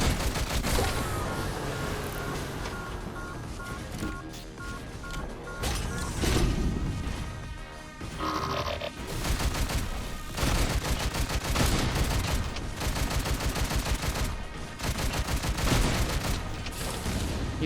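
Heavy gunfire from an enemy mech's shotgun in the game Scraps of the Machine: dense, repeated loud blasts with crashing impacts, continuing without a break over busy game sound and music.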